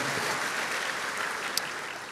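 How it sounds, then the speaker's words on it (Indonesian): A church congregation applauds at a Sunday service, a steady wash of many hands clapping at even loudness throughout with no voices over it. "Berikan tepuk tangan kita."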